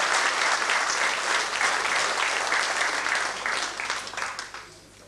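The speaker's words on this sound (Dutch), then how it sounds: "Van harte proficiat. En een applaus." Hall audience at a 1991 municipal jubilee award ceremony in Gulpen breaking into steady, full applause that carries evenly for several seconds before tapering off at the end.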